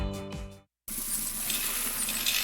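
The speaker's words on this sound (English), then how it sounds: "That's the sound of money being poured down the drain." Coins poured and clattering down a drain, a loud metallic jingling cascade that stops abruptly, then a brief gap followed by steady hissing, splashing rush.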